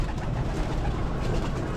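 Purebred pigeons, both hens and cocks, kept by a breeder for flying, coo softly against a dense, rumbling background of ambient noise with no speech.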